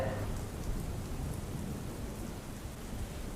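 Heavy monsoon rain pours steadily in Gujarat, a dense continuous hiss and patter with a low rumble underneath, even in loudness throughout and with no voices.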